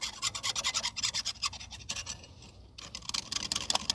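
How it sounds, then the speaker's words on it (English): A fine file makes quick, rhythmic rasping strokes across a metal surface, about a dozen short scratchy passes close up with a brief pause near the end, no talking. "Quick passes with the fine file."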